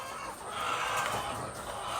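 Laying hens on a poultry farm cluck in a steady, close chorus, a dense and continuous murmur of overlapping calls with no pauses.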